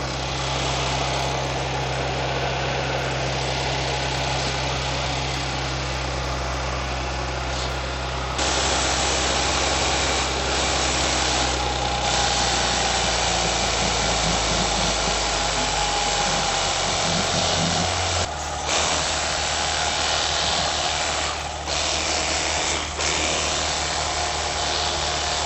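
An Audi S4 engine runs steadily at idle in its freshly washed engine bay, a continuous loud hum with a low rumble, shifting slightly in tone partway through.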